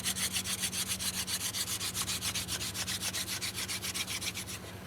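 A wooden hand-drill spindle spun between the palms for friction fire in damp weather, giving a steady rhythmic rasping of wood on wood, roughly ten strokes per second, close and continuous.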